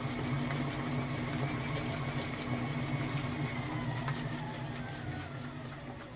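KYS Pro Baker 7+ spiral mixer kneading a large batch of pizza dough at full speed, around 450 RPM, giving a steady, continuous motor hum with a low droning whir that holds evenly throughout, no talk over it.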